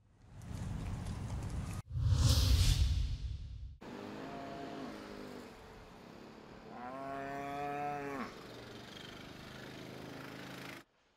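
Dairy cows on a floating farm in Rotterdam's port moo in several long, drawn-out calls. A burst of louder noise comes first, and a steady low background hum runs throughout.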